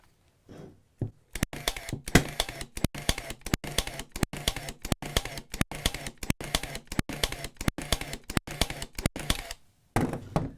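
A Milwaukee M12 23 gauge pin nailer fires nails into hardwood in a fast, steady run of about twenty-five sharp, loud snaps, with short pauses at the start and the end.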